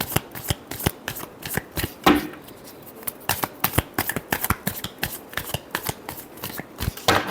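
Tarot cards are shuffled close up in quick, crisp bursts of riffling and slapping, a dense rhythmic patter that continues throughout with one brief softer pause.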